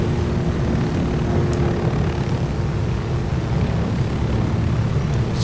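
Helicopter in the video game Ghost Recon Wildlands, with a steady, dense engine drone and rotor roar heard from inside, loud and unbroken throughout.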